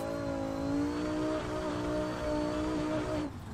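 Dodge Viper engine in a racing simulator game on tight mountain roads, revving hard with rising and falling harmonic whine through gear changes, loud and steady, then dropping off near the end.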